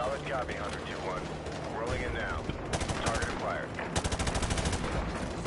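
Gunfire in the Modern Warfare 2 video game campaign, with bursts of rapid automatic shots and scattered single shots over game effects, while a player talks over the action.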